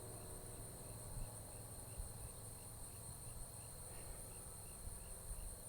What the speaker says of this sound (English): There's all kinds of little bugs and stuff. They go in there, crickets, grasshoppers.